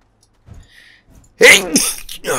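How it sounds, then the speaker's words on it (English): After a few faint soft noises, a sudden loud close sneeze bursts out, followed by a second rough, breathy sneeze sound. "I'm going to have to take two sneezes out"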